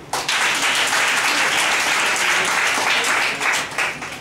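Church congregation clapping to acclaim God, a loud, dense burst of applause that starts abruptly and carries on steadily, with voices cheering faintly beneath it.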